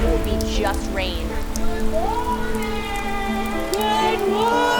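Steady rain falls outside on a morning in downtown Atlanta, Georgia, a loud continuous hiss with faint chirps and tones mixed in.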